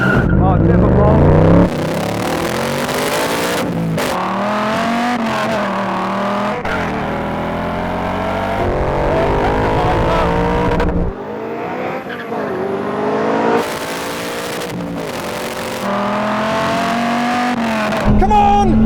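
A Cobra, a Viper and a Mustang accelerate in a drag race, their engines roaring loudly with rising, sweeping revs, brief drops between gear changes, and a sharp engine burst near the end.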